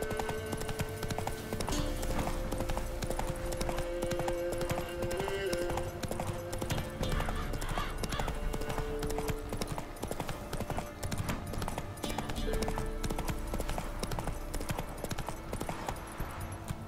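Horse galloping in the video game The Witcher 3: rapid, rhythmic, continuous hoofbeats close by, with occasional voices and game sounds over them.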